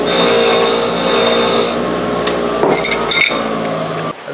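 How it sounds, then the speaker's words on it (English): A wire wheel cleaning up a steel wedge or chisel in a workshop: a loud, steady whirring hum broken by a few metallic scraping contacts near the end before the motor cuts down, no talk. "Then get over here on the wire wheel."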